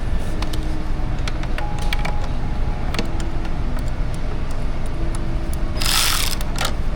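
Socket ratchet turning a pipe clamp on a Ford F-Series 6.7 truck, giving scattered quick metallic clicks and ratcheting bursts over a steady low background hum, close by.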